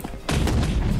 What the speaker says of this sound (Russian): Так, достаем петарду.